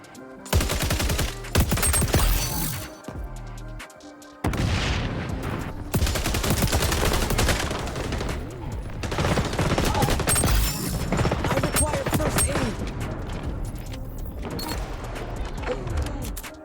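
Sustained, loud automatic gunfire in the video game XDefiant, dense rattling bursts nearly nonstop with only a short gap, layered with game effects.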